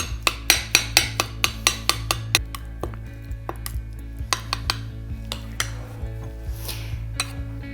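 Metal spoon tapping and scraping against a ring mould and plate while salmon tartare is spooned in, a quick series of bright clinks that later slow into scattered softer knocks, over a low steady hum.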